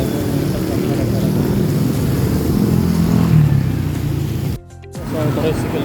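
A motorcycle-driven tricycle taxi passes on a Philippine street, its engine buzzing close and rising before a sudden dropout. Voices talk under the engine noise.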